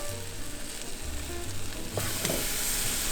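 Vegan French toast batter sizzles and crackles steadily in a hot pan, a soft continuous frying hiss close by that grows slightly louder toward the end.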